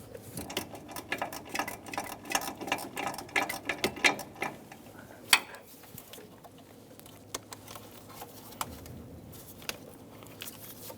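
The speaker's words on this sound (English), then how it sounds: "Remove the two bottom bolts first before going after the top ones." Bolts are worked loose from the left-side motor mount of a 2014-2018 Chevrolet Silverado 5.3L V8, with rapid ratchet clicks and metallic clinks close by, sometimes in bursts and sometimes paused, with sharp knocks against metal in a tight engine bay.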